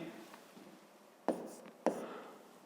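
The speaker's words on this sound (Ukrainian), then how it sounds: "Отже, записуємо тоді перша дія." Pen or chalk strokes setting down a step of a fifth-grade math solution, faint scratching with two brief, sharper taps, close and quiet, no talk over it.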